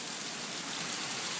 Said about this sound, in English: is thundering and raining.